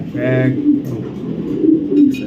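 Racing pigeons coo nearby in short, throaty bursts, a pair of birds calling close to the listener while someone talks over them.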